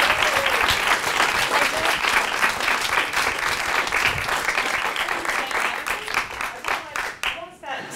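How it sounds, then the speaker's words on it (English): Audience at a lunchtime garden event breaks into sustained, dense applause, a steady wash of many hands clapping that holds strong for about seven seconds before thinning out at the end. "Round of applause again."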